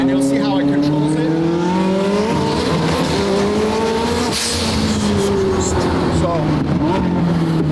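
A rear-wheel-drive McLaren 720 GTR built to about 1300 wheel horsepower accelerates hard with traction control on, its engine note climbing in loud rising harmonics before a sudden boom, with a voice briefly audible inside the car.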